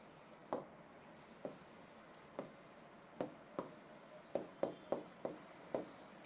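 A marker or chalk taps and strokes across a board while a benzene structure is drawn, giving about a dozen short, crisp writing strokes, sparse at first and then faster, in a quiet room.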